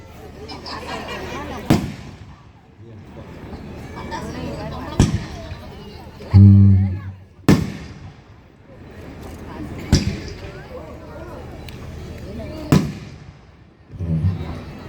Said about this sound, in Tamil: மாப்பிள்ளை வெடின்னு ஒன்று இருக்கு தெரியுமாக்கா?